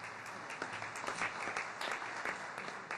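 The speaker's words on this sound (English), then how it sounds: "You can clap for them." Audience clapping in the chamber at a San Jose City Hall council meeting, a steady, moderately faint patter of many hands lasting the full three seconds.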